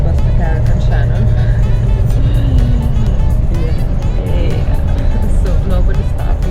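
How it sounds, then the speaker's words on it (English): Steady engine drone and road rumble inside a moving bus on the road to Carrick-on-Shannon, Ireland, continuous and fairly loud throughout, with no talking. "finally I'm on the bus to Carrick and Shannon."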